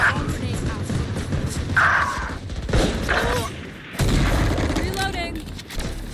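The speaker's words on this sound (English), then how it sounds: "Placing swarm grenade. Swarm grenade out." Valorant swarm grenade detonating in a burst of popping blasts amid busy in-game gunfire and thuds, with voices talking over the action.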